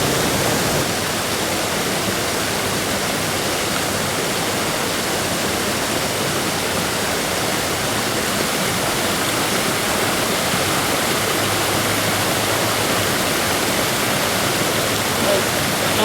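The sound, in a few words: water flowing through mini golf waterfall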